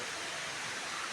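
Suruli waterfall in Theni rushes as a dense, steady roar of falling water that fills the whole moment without a break.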